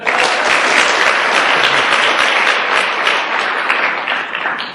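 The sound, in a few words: audience applause at a seminar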